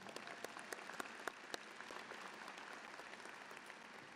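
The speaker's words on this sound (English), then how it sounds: "Let's give that a big round of applause" Graduation audience at a Princeton commencement ceremony claps steadily, a dense wash of hands with a few sharper individual claps standing out early on, sustained at moderate level throughout.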